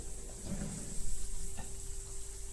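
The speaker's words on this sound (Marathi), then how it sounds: "हे बालुशेला ना तळायला जरा वेळ लागतो कमी गॅसवर तळावं लागतं" Balushahi fry slowly in oil over a low flame, giving a soft, steady sizzle with a faint bubbling swell near the middle and no voices over it.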